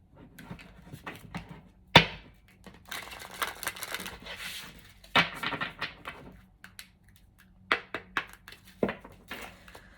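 A tarot deck shuffled by hand in several bursts, riffling flutters and sharp taps separated by short pauses, close by with no talking.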